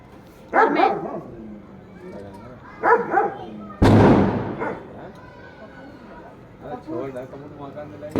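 A dog barks in short bursts near a group of people chatting during a Karva Chauth gathering, with a sharp loud crash partway through and voices continuing around it.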